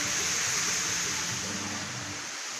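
A steady, dense wash of falling water from a waterfall fed by a river upstream, heard near a bridge outdoors, loud and continuous without any break.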